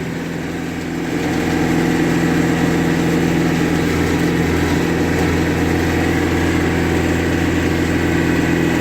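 A tractor engine runs steadily with a low, even drone, rising slightly at the start as throttle is added, then holding constant and loud throughout during a winter blizzard.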